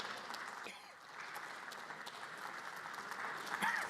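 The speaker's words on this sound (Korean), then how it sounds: "민주당 쪽에서 지금 계속해서 이제 기립 상태에서 박수를 치면서 대통령을 이제 배웅하는 모습이고요" Standing ovation for the president in a parliamentary chamber as opposition lawmakers see him out, a steady wash of clapping from a crowd of legislators that runs on and swells slightly toward the end, with no talk over it.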